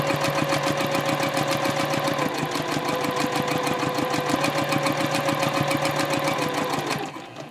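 A sewing machine stitches a bag lining at a 2.0 stitch length, running steadily and loudly with a fast, even rhythm for about seven seconds before stopping abruptly near the end.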